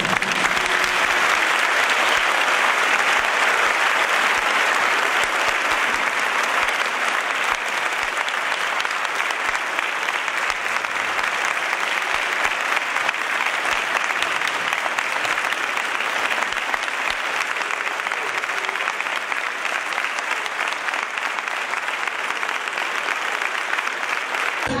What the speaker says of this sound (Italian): Per lui vorrei che dedichiamo un grande applauso.